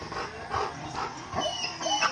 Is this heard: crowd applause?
no